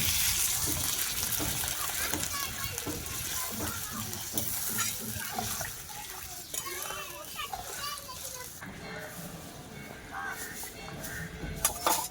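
Water poured into a pan of fried spiced potatoes for rui fish curry, a brief surge of hiss and bubbling over the ongoing sizzle and stirring, with a person talking and children's voices in the background.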